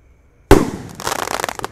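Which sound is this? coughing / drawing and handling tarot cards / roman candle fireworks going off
roman candle fireworks going off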